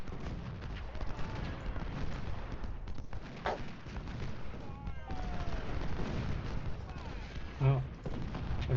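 Distant artillery fire thumps through battle ambience in the Civil War strategy game Ultimate General: Civil War, with several dull booms over a rumbling, steady backdrop and one sharper report near the end; a voice talks intermittently.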